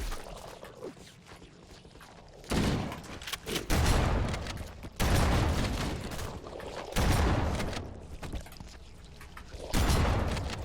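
Shotgun blasts in the video game Halo: Combat Evolved Anniversary, five heavy booming shots spaced a couple of seconds apart, each with a short reverberant tail over quieter game ambience.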